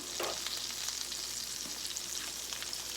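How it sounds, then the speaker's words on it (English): Small dough pockets fry in hot oil with a steady crackling sizzle and occasional pops, close up and without any talking. "We're just frying up some little pockets made out of the extra dough."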